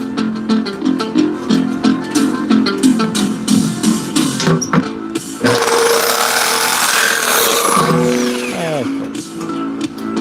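Material being cut in a garage workshop with a power tool, a steady loud grinding whine starting midway and running several seconds after earlier choppy, uneven tool noise.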